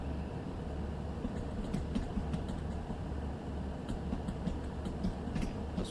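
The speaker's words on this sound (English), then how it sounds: "It's got good track joint sounds." Refurbished Class 150 diesel train in Train Sim World running over track joints, giving a steady low rumble with repeated faint clicking beats spread through the run.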